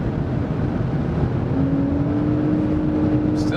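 A Lexus RX 450h F-Sport hybrid accelerates at around 190 to 200 km/h, a steady cabin drone of engine and road noise under which a thin tone slowly rises in pitch.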